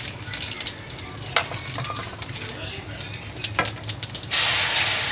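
Mustard seeds and cumin sizzling and popping in hot oil for a bitter gourd vegetable dish, a steady close crackle with sharp pops, ending in a louder surge of frying.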